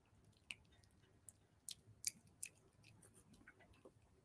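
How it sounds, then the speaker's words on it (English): A dog chews on a string attached to a shirt, making faint wet snips and clicking bites in an irregular run of small sharp sounds close to the microphone, with no talk. "my dog is making really gross chewing noises because he's chewing on my string that's on my shirt"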